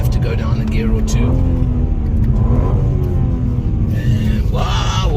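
A car engine roars loudly from inside the cabin during an emergency lane change test, surging as the driver drops down a gear or two, with a steady rumble and rising revs.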